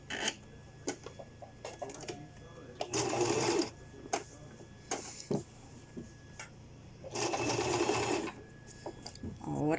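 Sewing machine stitching a pleated skirt mock-up with a wide stitch: two sustained bursts of fast, buzzing needle runs, separated by clicks and handling noises, close and fairly loud.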